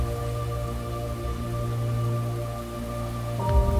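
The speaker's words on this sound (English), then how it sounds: "It rains and the wind is never weary." Steady rain hisses evenly throughout on a cold, dark day, mixed with a sustained musical drone underneath. A faint knock comes near the end, and no voices are heard.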